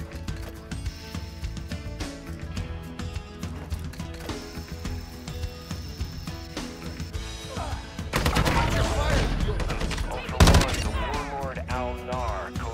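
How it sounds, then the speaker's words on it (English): Gunfire in the Call of Duty Modern Warfare II DMZ mode, sporadic shots under game music and mechanical clatter, then a louder burst of fire and a sharp crack near the end, with faint voices in between. "Didn't want to shoot until they started shooting at me."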